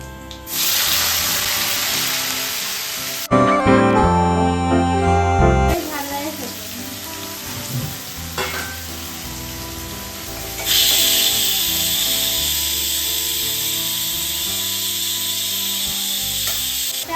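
Onion and cumin seeds frying in hot oil for a fish egg curry, a loud bright hiss and sizzle starting abruptly, interrupted by clattering, then continuing steadily close up, with no talk.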